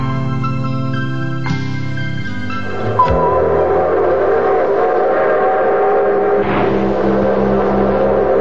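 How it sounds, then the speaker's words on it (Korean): A passenger train runs along the line and sounds a loud, sustained whistle, with the steady rumble of the moving cars continuing underneath and a brief sharper blast near the end. "기적을 울리며 우리를 고리짓게 하던 기차"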